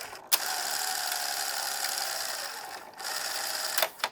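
A Betamax SL-C30 video recorder's loading mechanism threads a tape with its lid off, giving a steady whirring mechanical drone with brief clicks at the start and end, close and loud, with no voices.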